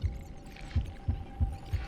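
A steady heartbeat thumps in Honkai: Star Rail, low muffled beats arriving in a regular rhythm over a faint background hum.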